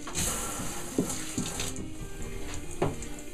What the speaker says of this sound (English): now I'm gonna wash out the rest of this emulsion so only my design is showing